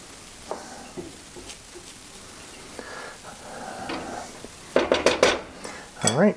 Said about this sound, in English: I'm going to just give it a little bit of a mix to get it inside the egg that's still soft.